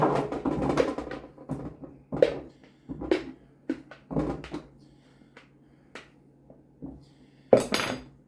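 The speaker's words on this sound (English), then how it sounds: "Then you just put it into the pan." Oiled pumpkin chunks are dropped into a pan for a chunky sweet potato, pumpkin and carrot soup, giving a series of irregular clunks and clatters against the pan, close and dry, with one sharper knock at the end.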